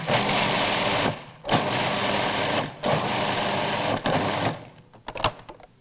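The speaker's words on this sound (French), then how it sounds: "Je vais mixer un petit peu." A food processor chops sunflower seeds in three loud, close whirring bursts separated by short pauses, then winds down with a few rattling stops.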